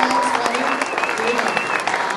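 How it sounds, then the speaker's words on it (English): An audience applauds second grade performers at a school Christmas show, with dense, steady clapping that continues at close range for the whole stretch. "applause."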